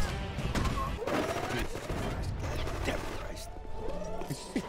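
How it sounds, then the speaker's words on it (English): Gunfire aimed at a player in the video game Rogue Warrior, with repeated sharp shots and clanking mechanical noises in a busy mix, moderately loud, under intermittent voices. "He's getting shot at."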